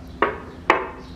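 Kerupuk ampalam crackers crushed by hand over a plate of nasi biryani, two sharp, close crunching snaps about half a second apart against a quiet room.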